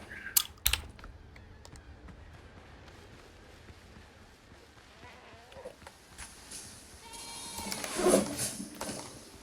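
Nanny goats bleat in the video game Windrose, a few scattered calls over clicking keyboard taps and ambient game sound, with a louder cluster of bleats near the end.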